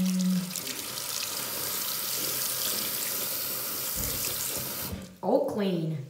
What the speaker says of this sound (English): Now we're gonna give him a quick bath shower.